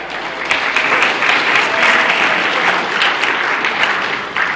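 A lecture audience breaks into applause at the close of an anatomy review session. The clapping is thick and continuous from start to finish, loud and close.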